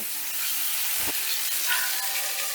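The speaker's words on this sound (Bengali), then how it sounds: "আমি আলু কুমড়োটা বেশ লাল লাল করে ভেজে নেব" Potato and pumpkin pieces frying in hot oil, a dense, even sizzle heard up close, with one short muffled thump partway through.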